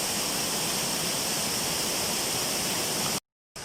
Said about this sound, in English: Here we are, some more waterfalls!